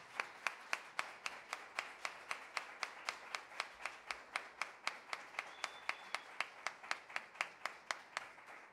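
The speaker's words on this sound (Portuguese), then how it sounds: "vamos receber com uma calorosa salva de palmas nosso irmão" A church congregation applauds to welcome a speaker at a morning service, a steady run of bright handclaps with an even, regular rhythm from a fairly small group, heard close and without talking.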